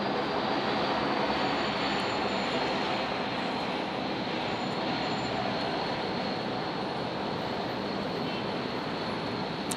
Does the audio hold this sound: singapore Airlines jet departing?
yes